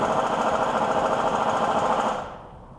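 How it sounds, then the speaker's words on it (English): A BMW E90 heater blower motor runs steadily as a loud, even whoosh with a fine buzzing flutter, then winds down and fades over the last half second. "can already hear the blower though"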